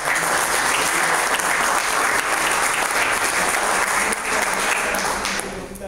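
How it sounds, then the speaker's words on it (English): Loud, sustained applause from the audience at a luncheon sponsored by Toyota, a thick continuous clatter of many hands that tapers slightly at the end. "Round of applause."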